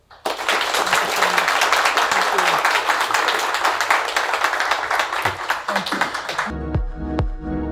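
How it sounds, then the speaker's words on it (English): An audience applauds a podcast guest, a boat company CEO, with a sustained wash of dense clapping that stays strong for several seconds and then cuts off abruptly into a quiet musical outro. "everyone give an applause for Erna"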